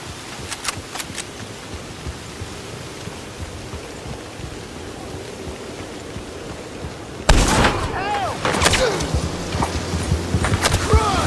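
Gunshots in Red Dead Redemption 2 during a sharpshooter challenge, fired at a target's hand or gun: a few sharp cracks over steady game ambience, then a louder stretch with several more reports and ringing tails.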